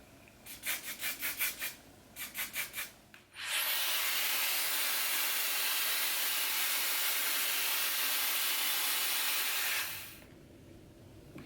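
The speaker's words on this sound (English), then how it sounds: "I'm gonna go ahead and set it with my favorite like texture hairspray" A long, steady hiss of texture hairspray sprayed from an aerosol can onto freshly curled hair, running loud and continuous for several seconds after a few short rhythmic bursts.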